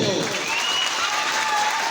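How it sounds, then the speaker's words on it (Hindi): Audience applause at a jatra comedy stage performance in Rengali, Bolangir, a dense steady wash of clapping from a crowd, loud and continuous with faint tonal sounds mixed in. "प्लीज ताकले गुटे जोर जोर ताली दियो"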